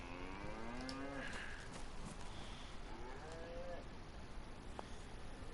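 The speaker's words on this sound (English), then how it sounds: "It's a herd of cows." Cattle herd in the survival game DayZ lowing in several long, overlapping moos, fairly close and clear above quiet ambience.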